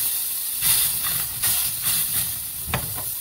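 Sausages fry in a pan with a loud, hissing sizzle that swells and fades in bursts, heard close with no talking.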